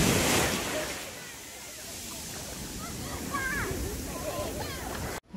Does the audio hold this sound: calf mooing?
no